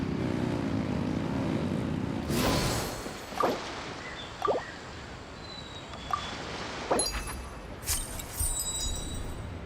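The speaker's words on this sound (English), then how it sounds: "Rev the engines!" Engines rev in the video game Genshin Impact as a propeller-like drone that cuts off abruptly, followed by a series of sharp swooshing bursts spaced a second or so apart.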